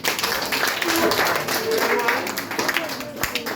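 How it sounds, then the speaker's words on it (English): Applause from an audience at a primary school ceremony, given for students moving up from grade 1 to grade 2, dense and steady throughout with voices mixed in. "Alright, clap them again."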